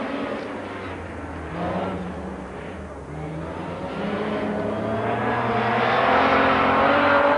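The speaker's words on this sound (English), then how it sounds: "the most fabulous rally noise of all, a big Healy in full cry" A big Austin-Healey rally car at full throttle, its engine roaring loud and close as the pitch climbs steadily, no voices over it.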